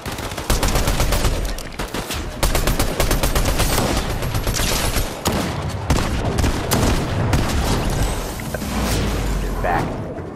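Rapid automatic gunfire from a heavy-recoil weapon in a video game, loud continuous bursts with short pauses between strings of shots.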